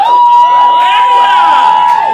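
A Florida audience at a comedy show cheers and whoops, a loud burst of mixed shouts and yells, with one sustained high whistle-like tone running over the crowd noise.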